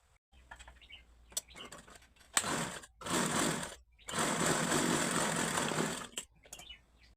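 A sewing machine stitches a katori blouse in two steady runs, a short burst and then a longer stretch of dense mechanical whirring, with quieter clicks and handling between.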